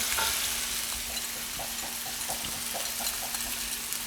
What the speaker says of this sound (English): as we're browning everything, we're gonna mix this all together